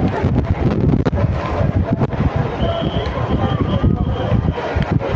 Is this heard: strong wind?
yes